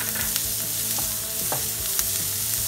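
Onions and curry leaves fry in hot oil, giving a dense, continuous sizzle with crackling spits, close and fairly loud.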